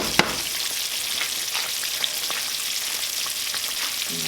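Mustard-coated catfish frying in hot oil, a steady bright sizzle and crackle throughout with a few sharper pops, close and continuous with no talking.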